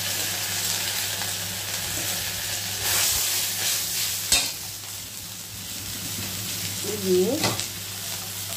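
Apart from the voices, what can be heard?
ginger paste and spice mix poured into hot oil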